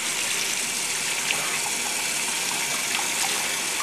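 Warm water runs steadily from a tap to rinse Forge World model pieces, a constant hissing gush with faint splashes and no talking.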